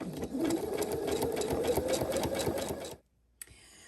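A sewing machine runs a loose zigzag stitch set to 4.0 width and 4.0 length, chattering rapidly and evenly at close range for about three seconds before stopping abruptly.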